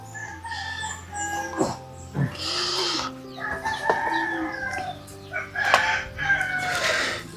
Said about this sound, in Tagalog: Yung nangingitlog na manok.